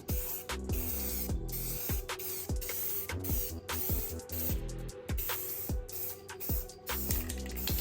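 Krylon satin khaki spray paint hisses from an aerosol can onto a rifle in a long run of short, repeated bursts with brief gaps between them, close up and fairly steady, with no talking.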